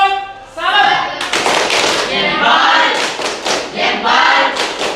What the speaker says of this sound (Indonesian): Untuk semangat terakhir kita butuh tepuk.